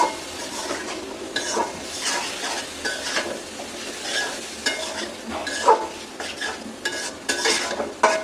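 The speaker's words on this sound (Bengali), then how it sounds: "অনেকগুলা পেঁয়াজ, অনেকগুলা চিংড়ি দিয়ে করলাটা ভাজি করতেছি আমি" Bitter gourd frying with shrimp, plenty of onions and green chilies in a pan: a continuous close sizzle broken by frequent, uneven spatula scrapes and stirs, with occasional light clinks and no voices.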